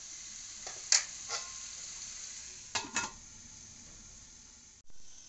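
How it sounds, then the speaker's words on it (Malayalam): Vegetables for koottu curry being stirred in a covered pan, giving a few brief scraping stirs over a steady faint sizzle, then a lid clank near the end; no talking. "ഇടയ്ക്കൊന്ന് ഇളക്കി കൊടുക്കുക."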